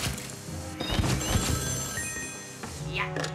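Telephone ringing inside the video game Portal 2, a repeated electronic bell tone at moderate volume under game music and sound effects, with someone talking over it.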